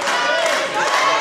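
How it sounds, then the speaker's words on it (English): A professional wrestling crowd roars and cheers in a continuous, loud, dense wash of voices for a short moment. "the crowd here are very much friends of Jason Jordan."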